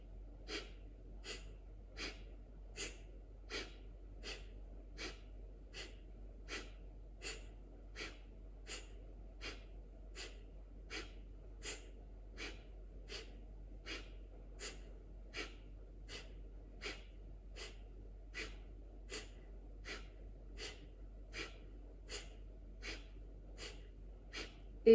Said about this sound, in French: On va boucher la narine droite et expirer par la gauche, tout en faisant respiration du feu